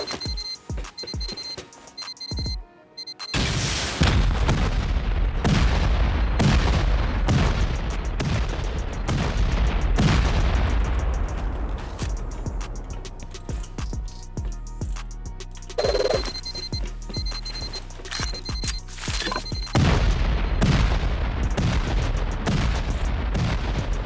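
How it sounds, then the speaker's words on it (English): Dozens of C4 charges detonating against armored walls during a clan raid on a base near a sulfur quarry, heard as loud repeated booming blasts in irregular bursts with a steady beeping tone running through parts of it, no voices. "That's all the C4 down. That's over 40 C4 used."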